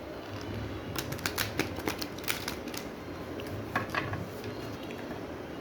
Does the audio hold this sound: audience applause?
no